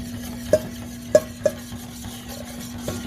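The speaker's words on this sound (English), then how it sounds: "Give this a whisk." A whisk clinks against a shallow pan while beating French toast batter, a few sharp metallic taps over a faint steady hum, quiet and close with no voices.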